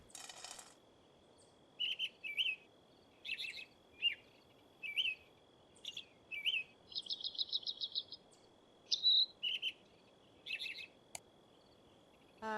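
Chirps from a songbird in the video game The Crimson Maid repeat in short bursts every second or so, including one rapid trill, over a faint steady ambient hum.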